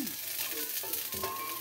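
Garlic fries in a pan for Batangas-style igado, giving a steady close sizzle with brief stirring scrapes, no talking over it.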